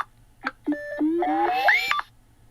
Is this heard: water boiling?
no